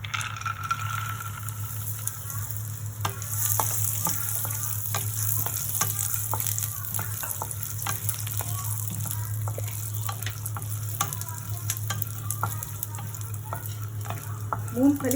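Peanuts fry in a pan of hot oil for medu vada, giving a continuous crackling sizzle with frequent sharp pops and a few stirring scrapes, heard close up and without speech.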